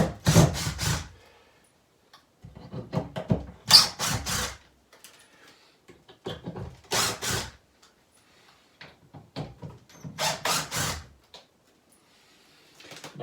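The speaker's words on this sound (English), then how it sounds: "now I'm in the process of removing the nails and screws that are left over from me just ripping the drywall out of here" Nails and screws pried out of wooden wall studs after drywall removal during a bathroom demolition, heard as repeated close scraping and squeaking pulls in separate bursts with quiet gaps between them.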